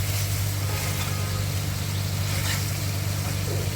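Eggplant and rui fish belly sizzling steadily in a pan with cumin, being stirred, a dense continuous frying hiss with a low hum underneath, no voices.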